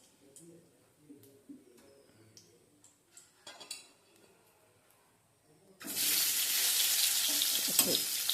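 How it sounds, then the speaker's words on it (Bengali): Panch phoron five-spice is stirred in hot oil for an egg curry: quiet clinks and scrapes of a spoon in the pan, then a loud, sustained sizzle of frying bursts in and continues to the end. "আমি তার সাথে একটু পাঁচফোড়ন অ্যাড করে দিয়েছি এবং পাঁচফোড়নটা একটু নেড়ে নিলাম।"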